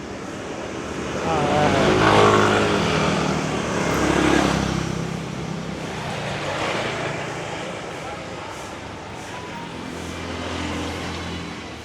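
Cars and mopeds pass along a narrow side street in Legian, Bali, engines swelling and fading as they go by, with a steady hum of traffic between them.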